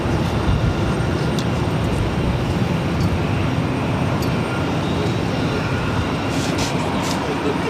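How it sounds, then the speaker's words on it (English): A United Airlines Boeing 737-800 taking off at Boston's airport, bound for Denver, heard as a continuous broad roar that stays steady and fairly loud throughout. "This is United Airlines 748 taking off to Denver on 737-800."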